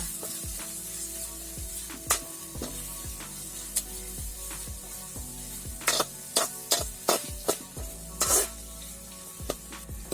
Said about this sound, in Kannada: ಈರುಳ್ಳಿ ಚೆನ್ನಾಗಿ ಫ್ರೈ ಆಯಿತು.